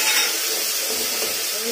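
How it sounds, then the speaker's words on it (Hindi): Ginger-chili paste and tomato hit hot oil in a frying pan while cooking vegetable pulao, giving a brief steady sizzle and hiss close by. "अब हम डालेंगे इसमें अदरक और मिर्च का पेस्ट, टमाटर"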